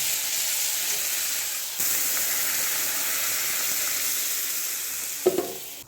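Hot pan of fish curry with chilli powder and a little sugar hisses steadily as water is added, a close, even sizzle with a brief clink of utensil near the end.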